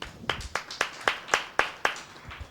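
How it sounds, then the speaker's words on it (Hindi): A few people in a church audience clap in a short, sparse burst of sharp, evenly spaced claps, fairly close and moderately loud with no talk over it. "भाई साहब के लिए ताली बजाएंगे।"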